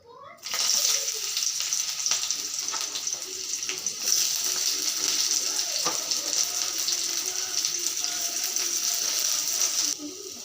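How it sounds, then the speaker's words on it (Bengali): Onions fry in oil in a kadai with a bay leaf, making a continuous bright hiss that holds nearly level throughout, close and fairly loud, with faint background sounds and no clear talk. "পেঁয়াজগুলো হালকা একটু বাজা হয়ে গেছে"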